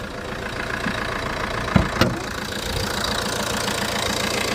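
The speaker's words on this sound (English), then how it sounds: "It's in limp mode, and you can hear the sound of the engine as well." A loud, rough diesel engine of a 2014 Vauxhall Insignia 2.0 CDTi in limp mode idles and knocks continuously close by, with a couple of sharp clunks partway through.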